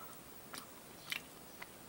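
A chocolate-topped sponge cookie from a raspberry jaffa cake is bitten and chewed close to the microphone, with three soft, moist crunches spaced apart over a quiet background.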